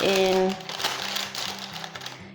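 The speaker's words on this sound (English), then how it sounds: "Just pushing the paper down into the corners" Greaseproof paper is pressed down into the corners of a buttered baking tin for banana bread, making close, soft crinkling and rustling while a person talks over it.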